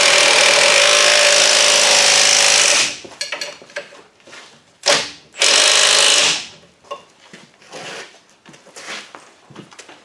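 A power tool drives a nut tight during reassembly of a worn-out machine, giving a loud, steady whirring burst for about three seconds. A second short burst follows, then scattered clanks and handling noises.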